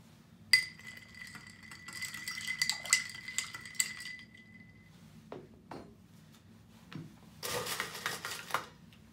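A spoon clinks against ice in a glass while a Nutty Irishman cocktail is stirred, a quick run of bright rattling taps followed by a few scattered knocks and a second short burst of clinking near the end.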